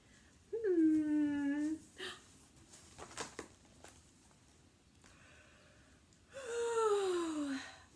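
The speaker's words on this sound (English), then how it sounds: "It's the yawn breath." Two long, drawn-out voiced breaths, each a sighing yawn with a falling pitch, separated by a few quieter breathy sounds.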